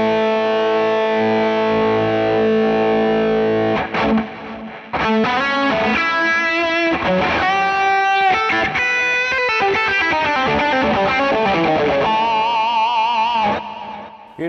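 Lead electric guitar through a Fractal amp modeler with digital stereo delay, playing sustained distorted lead lines and bends with echoing repeats, loud and continuous, with a brief pause near the four-second mark.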